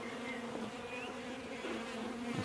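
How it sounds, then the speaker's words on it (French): Honey bees drone steadily inside a nucleus hive, a close, continuous buzz with wingbeat pitches drifting slightly up and down throughout. "Je trouve qu'il y a très peu d'abeilles."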